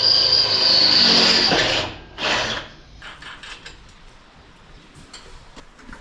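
Power tool whirring loudly on a truck as bolts are fastened, then a second short burst, followed by faint clicking ratchet and metal tool sounds in a quiet shop.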